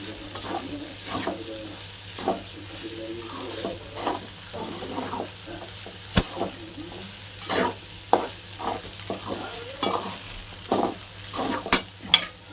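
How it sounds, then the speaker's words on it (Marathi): Peanuts frying in a pan for sabudana khichdi, with a steady sizzle and repeated scraping, clinking stirs at close range. "शेंगदाणा टाकले आता परतून घेते"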